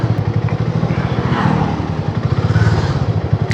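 A motorcycle engine throbs with a rapid, regular pulsing beat on the Mumbai–Goa highway, loud and close, swelling slightly as it moves along amid traffic noise.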